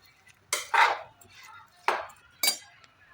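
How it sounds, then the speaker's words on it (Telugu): A spatula scrapes and clatters in a pan as spiny bitter gourd pieces are stirred with turmeric and ginger-garlic paste: four sharp, close scraping strokes with short pauses between them over a low background hum. "పసుపు, బోడ కాకరకాయ ముక్కలు వేసి బాగా కలుపుకోవాలి"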